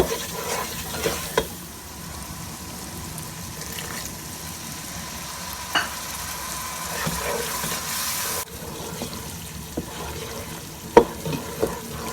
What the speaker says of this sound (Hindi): मसाला भुन चुका है।